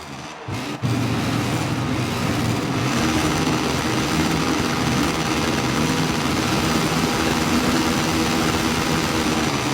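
Moto3 racing motorcycles at the start of the Argentine Grand Prix at Termas de Rio Hondo, a brief hush and then a sudden, sustained, loud roar of many engines revving together off the line.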